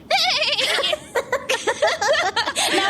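A voice imitates a horse's neigh with a shaky, wavering whinny, broken into several quick bursts that sound partly like giggling.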